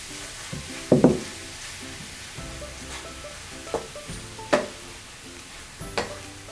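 Chicken tossed into masala in a pan sizzles quietly for a roast dish, while a spatula stirs and scrapes in several distinct strokes, each one sharp and brief, with no talking.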